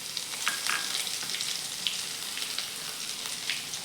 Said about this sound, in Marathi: आपण हे परतून घेऊयात। त्याच्यामध्ये थोडंसं जिरे टाकूयात, त्यानंतर अद्रक लसूण पेस्ट